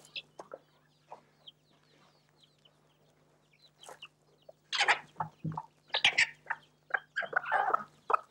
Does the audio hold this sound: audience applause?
no